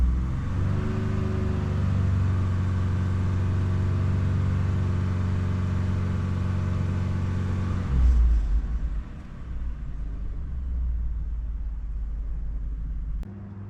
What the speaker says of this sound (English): let it idle for a little bit. I'll rev it a few times.